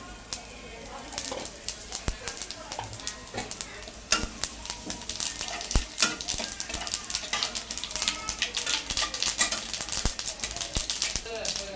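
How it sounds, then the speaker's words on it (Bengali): Whole cumin seeds tempering in hot oil crackle with an uneven patter of sharp pops and clicks, broken by occasional scraping stirs, at a moderate, close level throughout. "এখানে জিরা ফোড়ন দিয়ে দিচ্ছি"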